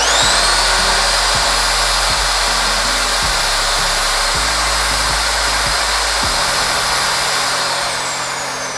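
A Dong Cheng power drill whirs steadily with no load, a loud continuous high-pitched motor whine that slowly winds down near the end.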